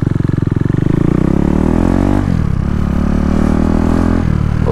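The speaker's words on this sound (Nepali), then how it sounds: "अङ्कलहरूको पुरा बुलेट ग्याङ गइरह है साइलेन्सर चेन्ज गरेर" A group of Royal Enfield Bullet motorcycles fitted with aftermarket silencers thunders past close by. Their loud, rapid thumping exhaust beats shift in pitch as the bikes throttle off and on.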